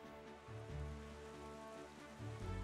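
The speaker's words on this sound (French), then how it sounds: "Ça m'embête un peu qu'il pleut." Steady rain falls across the open sea in Zelda: Wind Waker HD, a continuous wash of patter layered over low game music and droning tones, with no talk over it.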